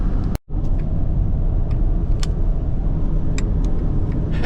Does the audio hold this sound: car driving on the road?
yes